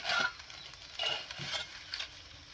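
Banana-leaf parcels of meat being turned over with a spatula in a frying pan, making a few close scraping and clattering bursts over a soft sizzle.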